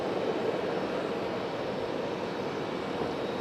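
Delta Airbus A321 jet taking off from Raleigh-Durham, a loud, steady broadband engine roar that holds evenly throughout, heard from a distance without voices.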